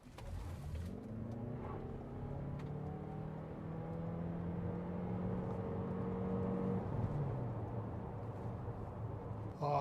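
A Toyota RAV4 Prime plug-in hybrid in sport mode accelerates hard from 0 to 100 km/h, giving a loud, steady whir with engine tones that climb in pitch and swell, uninterrupted by talk.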